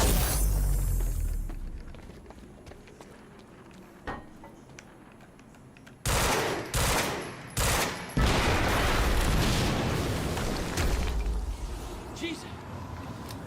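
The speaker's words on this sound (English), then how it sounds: "HQ, we just heard an explosion near the harvesting perimeter." A heavy explosion erupts in the video game Quantum Break, a cluster of loud, sharp blasts and crackling booms in the middle of the clip, ringing out over quieter game ambience and background noise.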